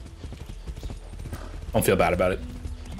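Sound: horse hooves galloping in Far Cry 6 video game

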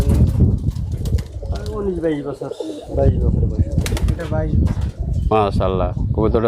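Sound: pigeons cooing

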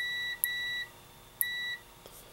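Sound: voltmeter continuity beep

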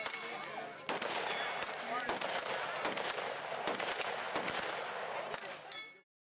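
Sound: gunshots from 9mm firearms at shooting range

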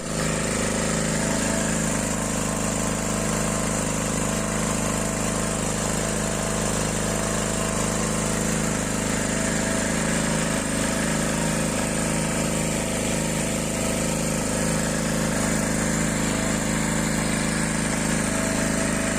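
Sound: STARTPRO 1800 generator engine running on petrol

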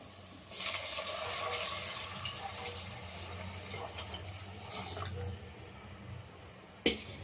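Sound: water poured into pot with soaked basmati rice

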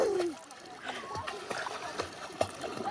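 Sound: child splashing while swimming in a lake

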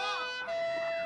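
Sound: police siren

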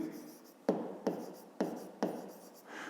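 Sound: writing in a notebook

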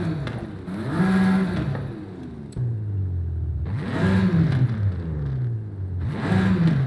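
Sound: tuned BMW M4 engine revving in video game Forza Horizon 5

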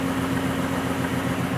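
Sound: free energy project driver motor speeding up

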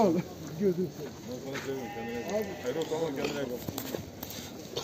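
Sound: sheep bleating at a livestock market

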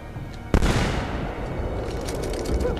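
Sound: gunshot in the video game Assassin's Creed 2

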